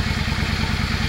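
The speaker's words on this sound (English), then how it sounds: "Motor sounds really healthy." The engine of a 2009 Yamaha V Star XVS650 motorcycle runs steadily, a loud, close, continuous thrumming with a fast even pulse, with no talk over it.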